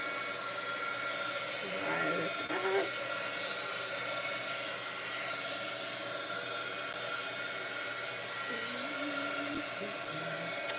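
A hair dryer blows steadily for about eleven seconds at close range, drying a piece of artwork, with faint talk now and then beneath the constant whooshing hum.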